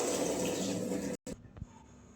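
Guava rasam pours through a filter in a home kitchen, a steady close splashing of liquid that breaks off briefly, then gives way to light drips and a soft clink.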